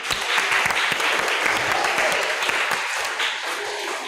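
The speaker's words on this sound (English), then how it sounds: "Give him a round of applause." Loud, sustained audience applause at a youth conference talk session, dense clapping from a large crowd that holds steady throughout with a few whoops mixed in.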